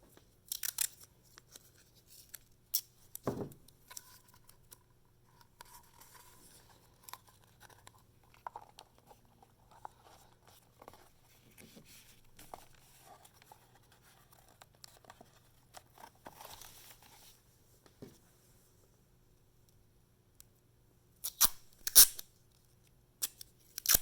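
Strips of tape being handled, crinkled and pressed to hold paper support cups onto a papier-mâché letter, with faint scattered rustles and a sharper burst of tape noise near the end, no talking.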